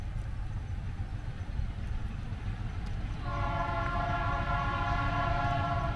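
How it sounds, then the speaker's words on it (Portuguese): A GE MX620 locomotive rumbles steadily through countryside, then its horn sounds a long, sustained chord partway through, continuing to the end at moderate distance. "vem que vem buzinando, piscando farol e cumprimentando aqui"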